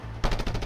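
Gunfire from the video game Just Cause 2: a short burst of rapid, close shots rattles out after a brief quiet lead-in.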